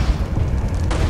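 A cannon boom in the video game Alice Madness Returns, a single deep, muffled blast filling a short moment with rumble.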